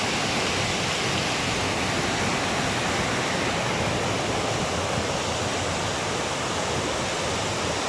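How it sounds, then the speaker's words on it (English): A creek in the countryside near Medellin, Colombia flows as a close, loud, unbroken rush of water, a dense steady hiss with no breaks and no voices. "Right over here is that creek."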